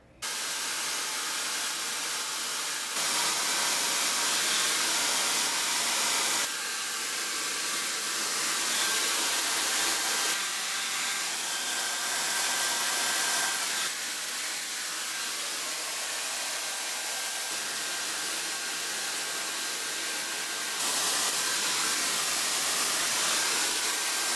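A hair dryer blowing steadily on curly hair, a loud continuous airy whoosh that shifts slightly in pitch and intensity every few seconds as it is moved or switched between settings, with no talking.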